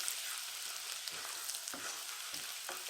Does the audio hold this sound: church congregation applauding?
no